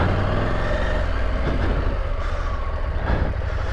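A KTM 890 Adventure R motorcycle, 2023 model, ploughs through a deep, dry sand wash with traction control off, its engine droning loud and close in a sustained rumble that swells slightly midway, with no talk over it.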